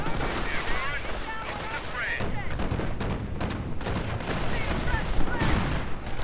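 Rapid gunfire and a strafing run on a Rouen battlefield in a 1v1 strategy video game match, dense crackling bursts sustained throughout beneath continuous commentator talk.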